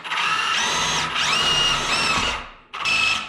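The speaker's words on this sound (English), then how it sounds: "I'm just gonna take my step bit on the drill and probably drill, I don't know, 4 holes at least" A power drill with a step bit bores holes into a steel truck frame from a Chevy S10, loud high whining bursts rising in pitch as the bit bites, with a short pause before another burst.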